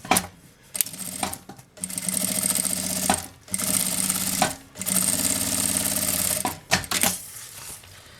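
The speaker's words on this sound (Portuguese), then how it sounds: "vou passar uma costurinha de meio pé de máquina, ou na beiradinha aqui, ó, pra fazer um pesponto" A sewing machine runs loudly in long stitching bursts while topstitching fabric along an edge, stopping and starting several times with brief pauses between runs.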